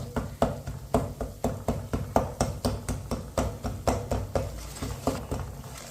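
Garlic is pounded in a kitchen while masoor dal cooks, producing a steady series of about sixteen sharp, evenly spaced thuds at a moderate pace, close and fairly quiet, with no talking.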